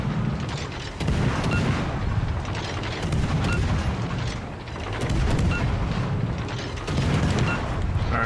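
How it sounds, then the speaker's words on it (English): Heavy naval gunfire in World of Warships Legends, with repeated deep booming salvos and mechanical rattling over a dense, loud background rumble. The blasts come in several bursts through the stretch. "Now the battleship shot me."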